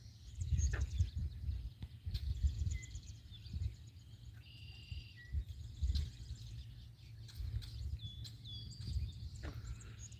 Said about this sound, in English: those are bullfrogs,